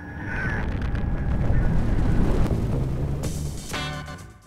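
Nuclear test detonation at Amchitka, heard as a deep, sustained rumbling roar that swells and then fades.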